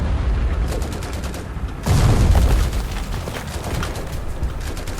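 Sustained gunfire exchange in War Thunder, rapid repeated shots with a heavier boom near the two-second mark, loud and continuous throughout with no talking.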